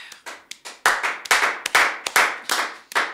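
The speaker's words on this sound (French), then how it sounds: "Est-ce qu'on peut acclamer pour la gloire de Dieu?" A church congregation claps together, starting with a few scattered taps and building into dense, loud rhythmic applause with sharp repeated bursts, no voices over it.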